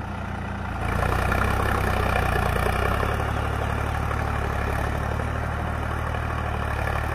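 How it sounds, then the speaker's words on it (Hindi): A Sonalika DI 745 tractor engine labours steadily while pulling a disc plough in second gear, a continuous loud low rumble that swells after the first second and holds without a break. "दूसरा गियर में भाई ट्रैक्टर थोड़ा थोड़ा दब से मन रहा है"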